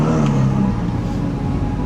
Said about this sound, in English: See how you can hear the turbos now?